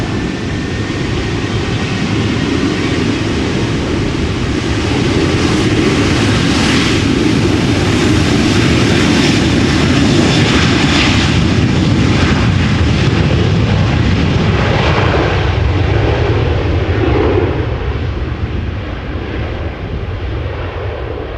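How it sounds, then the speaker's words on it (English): Boeing 737 jet departing Amsterdam Schiphol Airport, a loud sustained engine roar heard from a distance that builds, holds steady and then slowly fades as the airliner climbs away. "Boeing 737 skipping the line, flight 1947 going to Split."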